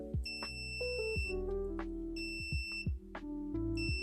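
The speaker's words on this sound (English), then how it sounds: "by changing the angle of the sensor, the alarm turns on" A buzzer alarm set off by tilting a tilt sensor sounds a string of sharp electronic beeps at shifting pitches, stuttering on and off over a steady low hum, close and fairly loud.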